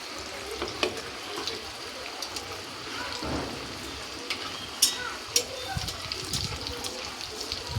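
Vegetable chops frying in hot white oil in a kadai give a low crackling sizzle with scattered sharp pops and clinks, while a voice talks over the cooking.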